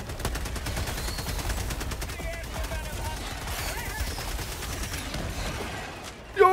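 Sustained automatic gunfire from Helldivers 2, a dense rapid rattle of shots running steadily throughout, with a sharper louder burst near the end.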